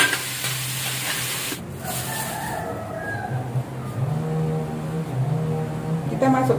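Spices stirred into a hot pan while cooking sayur lodeh with chayote and tofu, a steady close sizzle with scraping stirs throughout, no talking.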